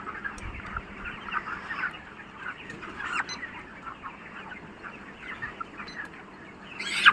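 Broiler chickens on a farm cluck and chatter continuously in a dense flock, moderately near and fairly quiet, with a few louder squawks scattered through and a brief sharp noise at the end.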